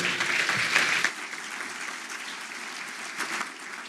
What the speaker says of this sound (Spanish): Con este aplauso sí, los despedimos a ellos